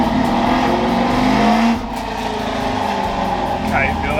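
A Ford F100 truck with a race engine, running on slick tires on the street, roars and revs loudly nearby in rough on-off bursts while someone talks over it.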